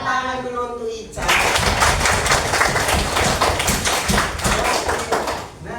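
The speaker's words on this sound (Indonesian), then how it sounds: "Tepuk tangan dulu untuk Ica" A classroom of students breaks into loud, sustained applause for a student named Ica, steady clapping that starts abruptly after a short spoken line and carries on for several seconds.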